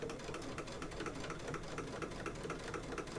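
A sewing machine stitching on slow speed, giving a steady rapid mechanical clatter with even needle strokes, close and continuous throughout.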